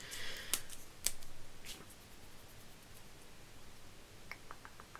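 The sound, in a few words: scissors cutting paper for a card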